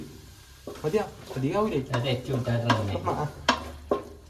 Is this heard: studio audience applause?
no